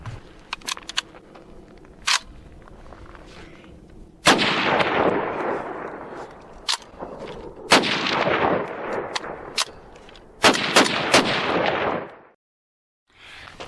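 A Ruger Mini-30 rifle firing outdoors after a repair: loud, sharp single shots spaced a few seconds apart, each followed by a long rolling echo, with fainter clicks and handling noises between them.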